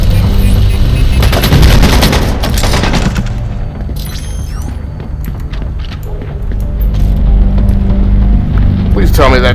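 Booming bursts of turret gunfire in a shooter video game, loud and repeated over several seconds with dense blasts, mixed with voices talking.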